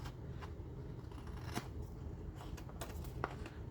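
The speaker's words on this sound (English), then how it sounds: "Let's see if I can actually cut a straight line." Scissors cut through paper while decorating a lapbook, giving a few quiet snips and paper rustles spaced over a few seconds, close by against a soft room hiss.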